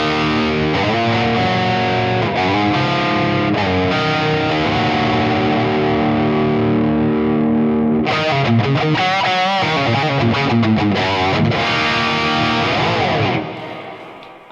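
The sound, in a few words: electric guitar through TONEX Plug amp distortion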